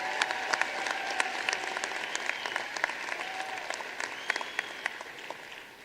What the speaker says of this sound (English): Let's have a nice round of applause for the Lumpkin College of Business and Technology graduates.